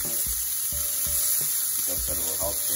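Fish pieces sizzling and frying steadily in a hot pan for homemade fish tacos, with a few soft thumps and scrapes as the pieces are stirred and flipped; the frying hiss stays loud and constant throughout.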